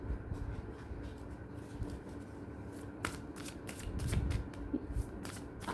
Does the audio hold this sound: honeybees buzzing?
no